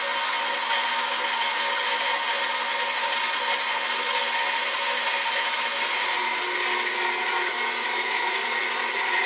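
A stand mixer with a dough hook kneads Czech bread dumpling dough at increased speed, giving a steady, loud motor whir with a constant rubbing churn and no pauses throughout.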